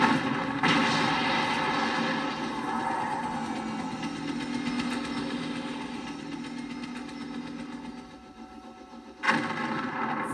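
A steady mechanical roar of a helicopter rotor and engine in the video game Resident Evil 3: Nemesis drones throughout, with a sharp burst near the end, no voices present.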